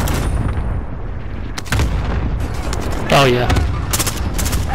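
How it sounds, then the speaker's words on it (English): Gunfire in a military shooter video game with a road and construction area, several bursts of shots cracking across a steady battle din, with people talking over it. "They are shooting at me."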